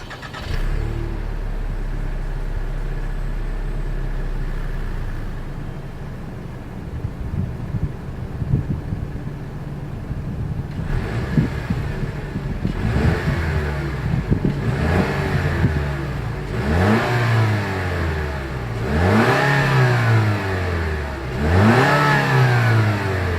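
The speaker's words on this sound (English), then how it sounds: "As always, here is that exhaust clip." A 2020 Lexus NX 300 F Sport's exhaust idles steadily, then takes a string of short throttle blips that grow into several rising and falling revs, loud and close with no talking.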